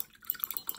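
A paintbrush swished around in a cup of water, giving a quick series of small, close, light sloshes and drips over under a second.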